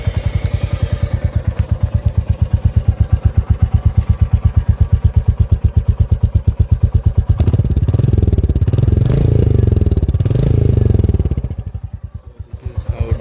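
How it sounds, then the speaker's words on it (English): A Royal Enfield Meteor 350 idles with a deep, even thumping exhaust pulse, then revs up into a louder rumble before settling and cutting out near the end, heard up close. "This is how the Meteor sounds."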